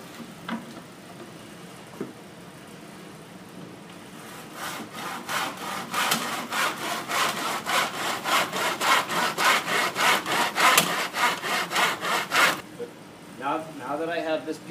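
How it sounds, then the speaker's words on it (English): A hand saw cuts baseboard molding held in a miter box: a quiet lead-in, then a run of rhythmic back-and-forth rasping strokes building in loudness, ending with brief handling sounds. "I'm going to then use the miter box"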